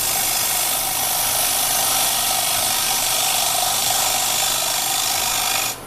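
A carbide tool taking slow, small bites from spindle work on a wood lathe, tailstock up for support, makes a loud, steady hissing roar that holds unbroken for several seconds before cutting off abruptly.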